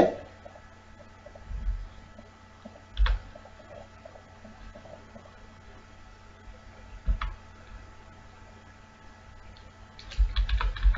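Computer keyboard typing while entering C code for a matrix multiplication program, scattered individual key clicks and a few short bursts spread over a quiet, hissy background with no talking.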